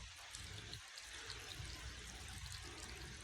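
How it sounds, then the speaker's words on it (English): Hot water pours steadily over a pee boy tea pet figurine, a continuous splashing trickle, close and fairly quiet, with no one speaking. "They would pour the hot water over him."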